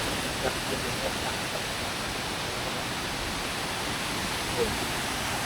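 A forest waterfall near Bueng Kan, Thailand, throws up fine mist and spray, heard as a soft, steady broadband rush from some distance, even and unbroken throughout.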